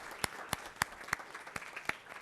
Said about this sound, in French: Vraiment, oui, on peut les applaudir.